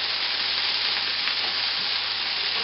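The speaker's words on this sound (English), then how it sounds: "I'll fry that for a minute or so. Just to ensure that there's butter all around the broccoli florets." Broccoli florets frying in butter in a pan give a steady, even sizzle with a soft hiss throughout, close and fairly quiet, with no talking.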